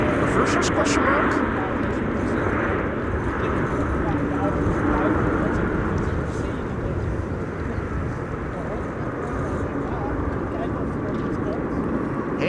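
Airliner landing at a windy Amsterdam Schiphol with thrust reversers, a loud sustained broadband roar with gusty rumble and some clicking, fairly near and steady across the clip.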